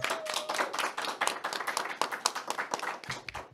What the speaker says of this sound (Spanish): te despedimos con un fuerte aplauso